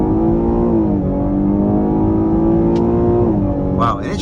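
A 2022 Cadillac XT6 Sport's high-revving V6 engine revs loudly and climbs steadily in pitch under acceleration, then drops briefly as it shifts near 7,000 RPM, close and continuous.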